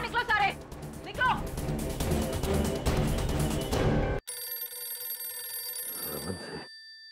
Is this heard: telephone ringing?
yes